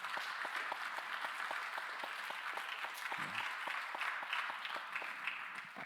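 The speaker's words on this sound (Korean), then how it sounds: "우리 함께 예배드린 분들을 위해서 박수로 환영하겠습니다." A church congregation at a Sunday youth worship service claps in welcome, a steady, even patter of many hands in a room, moderately loud and continuous with no talk over it.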